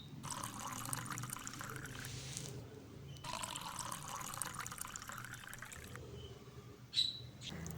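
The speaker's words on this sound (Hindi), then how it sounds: "अब मैं इसे कपों में डाल देती हूँ।" Strained kahwa green tea with ginger poured from a jar into cups, a soft steady trickle of liquid running for several seconds with a brief break, quiet and close, with no talking.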